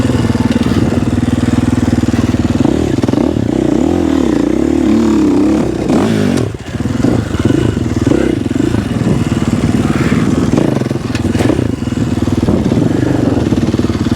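Loud, close four-stroke enduro motorcycle engine running with a continuous throaty rumble, its revs rising and falling and briefly dipping before resuming.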